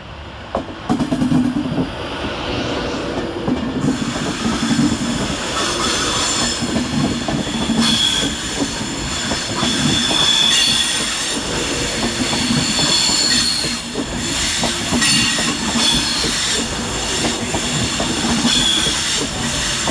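An Avanti West Coast Class 390 train, unit 390-040, moves through Carlisle railway station with continuous rumbling and rattling wheels, repeated squeals from the rails and hissing, loud and close throughout.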